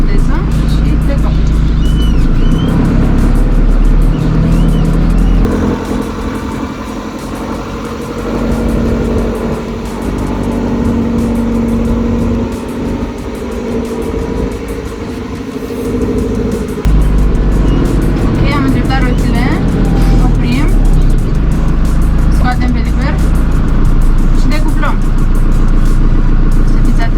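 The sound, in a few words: JCB 3CX backhoe loader driving off in 4WD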